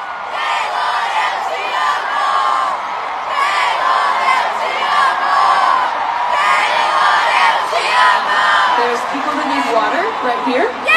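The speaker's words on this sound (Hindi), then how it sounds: "लोग चिल्ला चिल्ला के ये बोल रहे हैं कि उन्हें पानी" Large crowd at an Eras Tour concert in Brazil, loud continuous shouting and chanting in unison, many voices blended, close and dense throughout.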